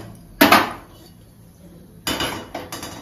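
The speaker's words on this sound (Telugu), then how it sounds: "గిన్నె పెట్టుకొని" A cooking pot set down on a stove produces a sharp metallic clank, then after a pause two more clattering knocks with short ringing tails, close by in an otherwise quiet kitchen.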